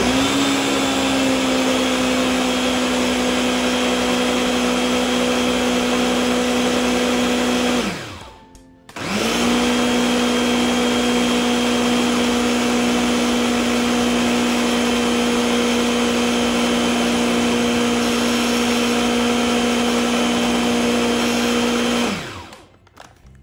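A blender whirring loudly as it mixes cornbread batter with jalapeno and milk, a steady motor drone that cuts out briefly, restarts and runs on until it winds down near the end.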